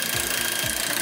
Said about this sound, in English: they are bolting one half to the other on the floor with a 5-inch lag bolt